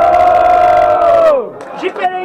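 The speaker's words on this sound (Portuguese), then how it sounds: "Barulhos, barulhos pra quem gostou das rimas do AJS" Crowd noise erupts at a student rap battle in Guarulhos, São Paulo, a loud sustained wave of voices in the opening second that then drops off abruptly, leaving scattered shouts and a host's voice.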